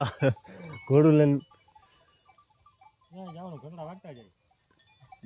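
Goats bleat at a goat farm: two loud wavering bleats up close early on, then a quieter run of quavering calls near the end, with brief gaps of near silence between them.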